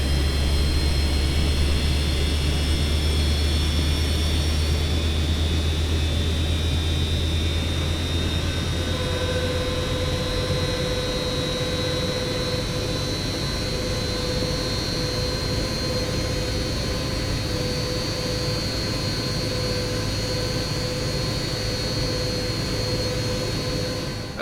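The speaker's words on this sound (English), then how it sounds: "let's just take a moment to listen to some of these sounds from the exterior for the engine start" A Lockheed TriStar airliner jet engine in Microsoft Flight Simulator 2024 spools up with a rising whine and steady low roar, the tones shifting and climbing as it starts, heard from outside.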